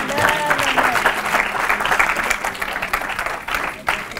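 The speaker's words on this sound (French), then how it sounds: "Acclamez le Seigneur." Steady, loud applause from a church congregation praising the Lord, many hands clapping together with some crowd voices mixed in.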